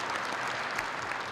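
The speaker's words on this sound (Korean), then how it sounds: "응원의 박수 한 번만 좀 부탁드릴게요." A short burst of steady, even clapping from a studio audience at a Korean talk program, welcoming a guest onto the stage.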